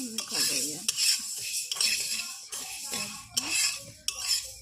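Red lentils for khichuri are stirred and fried in a pan, with a utensil scraping and clinking against the metal in irregular strokes, close and fairly loud, over a faint sizzle.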